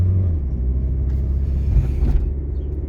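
A 1996 Nissan 240SX automatic engine rumbles low and steady as the car drives along the road, building speed with a continuous drone and no voices.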